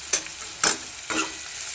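Cluster beans frying with turmeric and red chili powder in a pan, stirred in three quick scraping strokes about half a second apart over a soft background sizzle, close and without talk.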